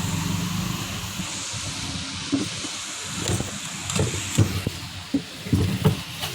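A drone bike flies in a video game with a steady engine-like hum and whir. Louder bumps and surges break in toward the end, with no voices.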